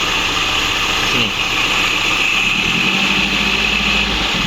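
A Zeby motorcycle engine with its carburetor being worked on, running loud and close with a steady revving drone that rises slightly partway through, under brief speech.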